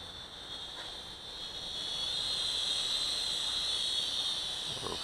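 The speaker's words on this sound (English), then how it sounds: "A little flyby droney." A Huajun HJ818 Pathfinder toy drone buzzes past outdoors in a light breeze, a thin high-pitched propeller whine that swells louder as it draws nearer and holds steady.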